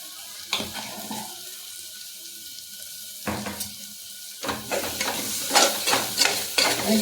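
Tomatoes with a little salt being stirred in a pan for pumpkin leaf bhaji, a low sizzle with occasional spatula scrapes, building into a quick run of close stirring strokes near the end, no talking.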